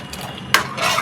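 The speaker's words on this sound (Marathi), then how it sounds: "आता आपण मिक्स करून घेऊया" Apple kheer being stirred in a pot of boiled milk, a short scrape and clink of a spoon against the pot over a faint bubbling simmer, no voices.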